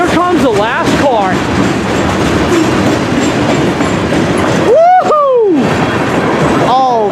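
Final cars of a 90-car CSX grain train roll past close by with steady rail rumble and clatter, and squealing wheel tones rise near the end, while a person whoops over the passing train.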